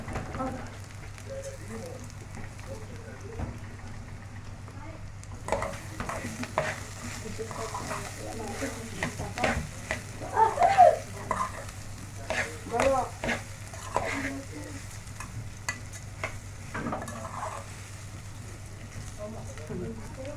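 Vermicelli, lentils and rice being stirred and sautéed in a pot for Egyptian koshari, a steady low sizzle with scraping stir strokes and clatters throughout, and a voice talking in places.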